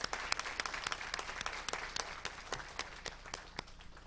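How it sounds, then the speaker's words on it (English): Sparse applause from a small audience at a city council meeting, with distinct individual claps ringing out over a softer patter for about four seconds, moderately close and fairly quiet. "Give them a round of applause."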